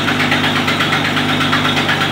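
A 1937 Packard's engine runs at a steady, loud idle, a continuous low rumble with a slight knocking pulse, heard up close with no talking.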